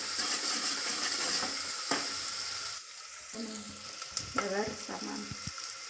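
Ginger paste, chilli and onion fry in oil with a close, fairly quiet sizzle that softens midway, then returns with a few stirring knocks and scrapes.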